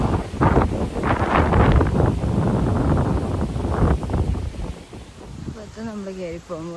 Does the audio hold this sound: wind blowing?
yes